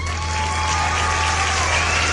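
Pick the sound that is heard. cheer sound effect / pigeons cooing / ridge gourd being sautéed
cheer sound effect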